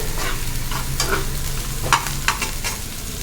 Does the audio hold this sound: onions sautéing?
yes